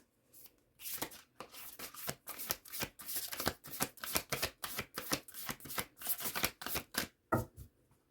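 A brand-new tarot deck is riffled and shuffled repeatedly: dense bursts of crisp papery flapping in an even rhythm, close up and clear, with a short pause near the end and no talking.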